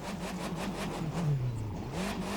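Monster truck engine in a video game revving steadily while spinning donuts, a continuous close whirring drone with a pitch that rises and dips through the turns, no voices.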